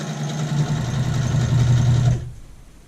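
Sewing machine stitching a skirt dart at a 2.5 stitch length, running as a steady, close mechanical hum for about two seconds before it stops abruptly.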